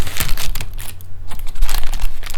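Baking paper is peeled off a freshly baked, still-hot pound cake, giving loud close crinkling and tearing rustles in uneven bursts with a brief pause midway.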